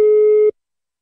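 Steady telephone line tone heard while a prank call is being placed, a loud continuous electronic hum that holds for half a second and then cuts off abruptly into silence.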